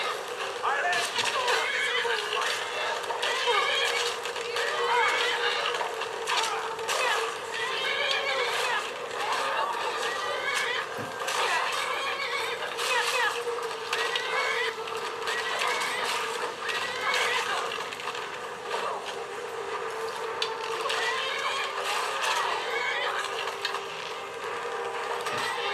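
Horse neighs and whinnies ring out in a low-settings game running on a Lenovo ThinkPad X230 laptop, repeated calls over a steady busy game soundscape with hoof clip-clops, no speech in the clip.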